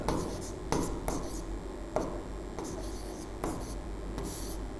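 Pen on paper writing out a math solution by hand, a close, soft scratching broken by several sharp strokes and taps, with faint background hum.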